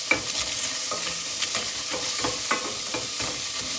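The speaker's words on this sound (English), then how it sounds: "you can hear it sizzling. Nice and hot. I'm just gonna brown up my onions just a little bit" Onions sizzle and fry in hot oil in a pan for a chickpea curry, a steady crackling hiss with scattered sharper pops and a few stirring scrapes, close and moderately loud with no talking.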